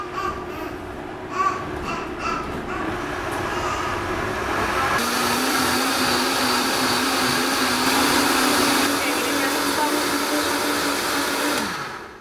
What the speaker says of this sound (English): And now the fun part, the blending part.